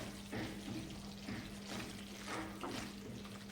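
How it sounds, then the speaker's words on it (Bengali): Water poured into a pan of fried spices for stuffed potol curry, a steady, soft, close trickling and splashing with a low hum underneath and no talking. "জল দিচ্ছি।"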